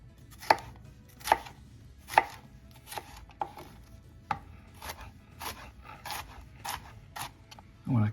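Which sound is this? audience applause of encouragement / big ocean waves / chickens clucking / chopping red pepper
chopping red pepper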